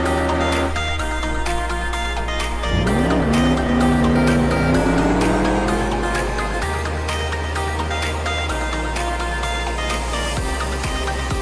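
Tesla Roadster and Airtime XT racing in Roblox Jailbreak, loud continuous engine drone with rising revs, a sharp acceleration sweep partway through and tire squeal over steady game music, no voices.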